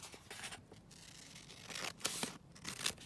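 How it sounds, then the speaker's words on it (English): Scissors snip and trim a paper envelope during card making, giving several short, crisp cutting bursts close by, with quiet pauses in between and no talking. "let's bring in the envelope, trim that down."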